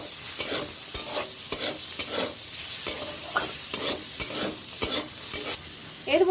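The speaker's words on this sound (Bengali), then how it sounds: "আলুটাকে খুব ভালো করে ভেজে নিতে হবে লাল লাল করে" Potatoes and green chillies fry in a pan for vegetarian ghugni, a steady sizzle broken by regular scraping strokes of a spatula stirring about twice a second, close and clear with no voices.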